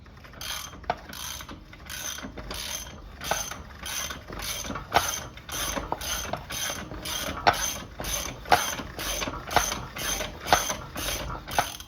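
Rapid, rhythmic ratchet clicks repeat in steady bursts, with a mechanical clunking beneath them as a Honda D16Y8 engine is turned over by hand.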